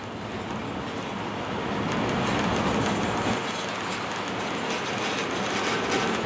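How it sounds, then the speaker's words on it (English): Disneyland Resort parking tram rolling along toward the Mickey and Friends parking structure stop, a steady broadband rumble with rhythmic clatter that stays loud and constant from start to finish, with no talking. "We are now approaching the Mickey and Friends tram stop"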